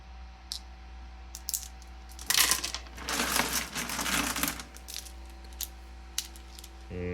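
Tumbled and polished rocks, galaxy stones and rhyolites, clatter and clink as they are sorted by hand, a burst of dense rattling in the middle between sparse single clicks, over a low steady hum.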